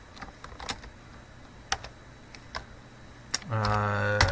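Sparse, irregular keystrokes on a computer keyboard while a memo is entered into an invoice program, with a few isolated taps, quiet and close, ending in a steady electronic tone.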